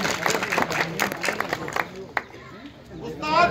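A crowd at a Lahore stage gathering claps briefly for ustads as they are welcomed onto the stage. The clapping sounds mixed with chatter and fades out partway, and a voice rises near the end.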